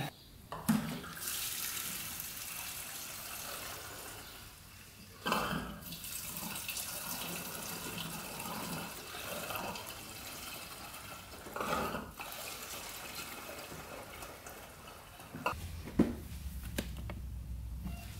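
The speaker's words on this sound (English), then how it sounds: "We'll let the rest drain out through the petcock there" Old fuel drains from a quad's petcock in a thin, faint trickling splash that runs on and off with a few clunks, close by and with no talk.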